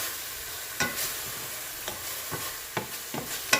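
Mushrooms frying in a pan, with a steady close sizzle broken by several short sharp stirring scrapes and clacks at irregular intervals, no talking.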